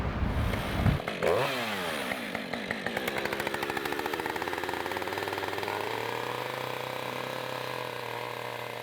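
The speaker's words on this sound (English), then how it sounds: "I've been carving with the chainsaw for the last 12-ish years" A chainsaw carves wood for a phoenix sculpture, opening with sharp revving and cutting bursts, then settling into a loud, steady idling drone with a fast mechanical chatter that runs to the end.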